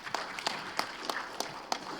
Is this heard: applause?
yes